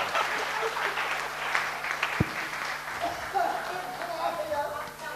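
An audience at a comedy mimicry show claps in a dense, continuous wash of applause lasting several seconds, loud and close, with a few sharper individual claps standing out.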